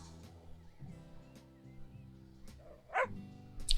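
A pet dog in the House Flipper video game gives a few short, close barks and yips, scattered across a quiet moment.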